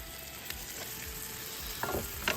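Food sizzling and frying in a pan while being stirred, with a steady broadband hiss and a few scraping utensil strokes near the end, close and fairly quiet, no talk.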